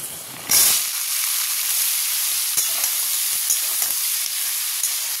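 Vegetables hit hot oil with dried chilli and five-spice in the pan, bursting into a loud sudden hiss that settles into a steady, even sizzle with small crackles.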